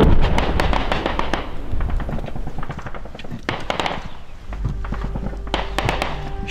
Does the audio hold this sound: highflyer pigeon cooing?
no